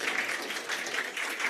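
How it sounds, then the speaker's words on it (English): Audience applause at a conference session on stormwater filters and dissolved phosphorus removal, a steady wash of many hands clapping together for the full stretch with no talk. "round of applause for Erica and Andy"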